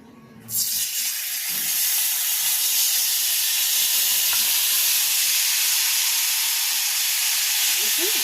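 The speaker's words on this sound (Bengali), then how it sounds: "এবারে যে মাছটা মাখিয়ে রেখেছিলাম ওইটা আমি কড়ার মধ্যে ঢেলে দিচ্ছি।" Marinated fish poured into a hot kadai of oil bursts into loud, steady sizzling that starts abruptly after a brief quiet moment and holds a dense, hissing roar to the end.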